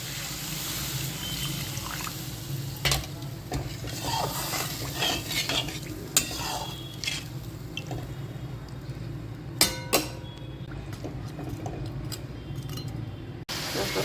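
Spoon stirring kathla fish curry with chilli powder, salt and a splash of water in a pan, giving repeated scraping and metallic clinks over a soft, continuous sizzle, with sharper knocks now and then.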